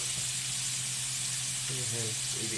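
Burger patties sizzle loudly and steadily in a hot pan as they are flipped, a continuous close frying hiss with a voice talking briefly underneath.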